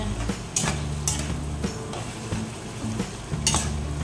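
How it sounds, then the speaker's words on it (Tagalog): Taro stalks being stirred in a cooking pan, a sizzling fry bed punctuated by rhythmic utensil scrapes and metallic knocks against the pan roughly every half second, close and steady, without talking. "Haluin po natin siya."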